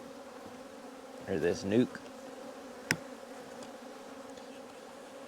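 Honey bees buzz around hive frames during a hive split, a short, close burst of buzzing that fades quickly, followed by a single sharp click, with a brief spoken phrase in the clip.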